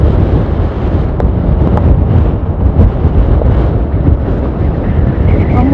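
Strong wind above 35 km/h buffets the microphone on a motorcycle riding Ruta 40, a loud, continuous roar and rumble with gusty surges and no clear talk.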